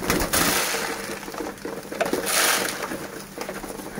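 Native local pigeons in a crowded pigeon loft coo over a dense, rustling background of wing flutters and scraping movement. The sound rises and falls in loudness, with no one speaking.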